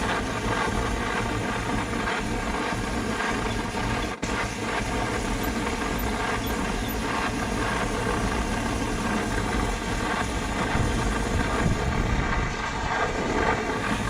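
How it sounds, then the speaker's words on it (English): A vintage one-burner M1950 gasoline camp stove burns steadily, its flame giving a continuous, fairly quiet rumbling roar with a faint rapid pulsing like a small pulse engine, heard alone. "pulse engine, like pop, pop, pop, pop,"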